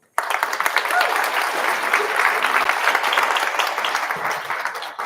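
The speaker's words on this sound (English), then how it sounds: "please give a warm round of applause to Sarah Reeder" Applause breaks out suddenly from an event audience as a speaker is welcomed on stage, holding strong and even, a sustained wash of many hands clapping.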